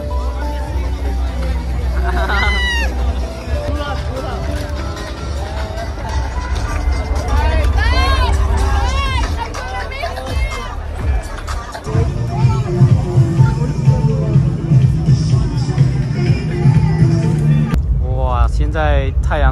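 A large crowd walks home at dawn after a night at Exit Festival, a dense, continuous hubbub of chatter and footsteps with voices talking close by throughout.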